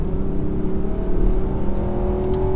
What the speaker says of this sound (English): this engine does rev out nicely, as I shall now demonstrate